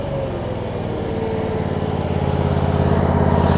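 A Grand LX VMT mower engine runs at full throttle around 3600 RPM, a loud, close, steady buzzing drone that rises slightly and holds, with no talk.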